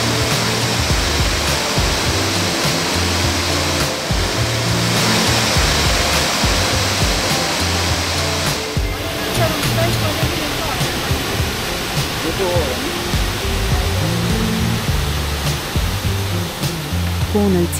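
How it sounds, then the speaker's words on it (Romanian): The Lolaia Waterfall, about 13 to 15 metres high in Romania's Retezat Mountains, roars close by in a loud, continuous rushing wash that stays steady throughout, with no voices heard. "sunetul apei te va călăuzi direct către Cascada Lolaia"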